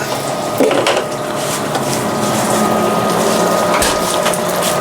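Steady crackling sizzle of rice frying in hot grease, continuous and close, with a few soft clicks and scrapes on top.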